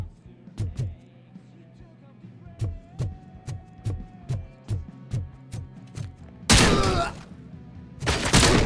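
Gunshots ring out in RoboCop: Rogue City, a steady series of about a dozen evenly spaced heavy single shots, loud and close, followed by two harsh bursts of noisy impact or rapid fire.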